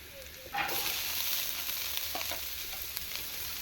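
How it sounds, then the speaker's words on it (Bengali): Carrots frying in a pan for a breakfast dish of flattened rice and semolina: a steady, close sizzle that swells suddenly after half a second, with a few soft stirring scrapes and no talking. "গাজরটা আমি ভেজে নিলাম"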